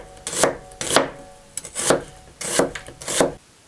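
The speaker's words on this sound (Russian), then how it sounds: "Беру крупную луковицу и нарезаю полукольцами." A knife slices through an onion on a board, five or six crisp cuts in a quick, even rhythm, close and clear.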